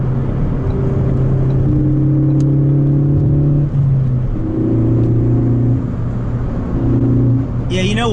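A Ford Focus ST engine revs in several rising pulls, with a steady droning hum and climbing tones as the turbo spools up, close and loud, with short dips between each throttle blip.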